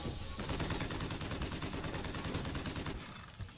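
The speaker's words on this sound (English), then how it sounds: "From the sound of it, I can hear a motorized patriot." The Motorized Patriot enemy in the video game Bioshock Infinite fires its weapon in a sustained, rapid machine-gun burst lasting about three seconds, loud and dense, then breaks off.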